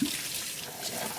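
Breast pump parts rinsed under running water, a steady close splash and trickle lasting the whole moment without pause.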